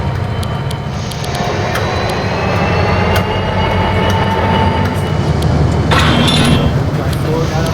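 Model train from the video game Rolling Line rolling along the track with a steady rumble and faint clinks, alongside a voice.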